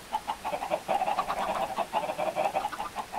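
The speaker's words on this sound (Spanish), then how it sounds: "Pues ahí tenemos gallinas." Chickens in the Minecraft video game cluck in a steady, rhythmic string of short calls, moderately loud and alone with no talk.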